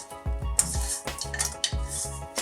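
A spoon scrapes and clanks against a pan as grated yellow-dyed coconut is slowly stirred into cooked sugar syrup, making repeated rhythmic knocks and scrapes close up with a faint sticky rustle between strokes and no talking.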